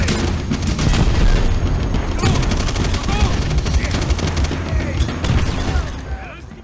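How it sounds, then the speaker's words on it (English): Grenade blasts erupt in the middle of a Call of Duty: World at War firefight, with heavy booms buried in nonstop, dense automatic gunfire that stays loud and close throughout. "I just got double whammied by grenades there"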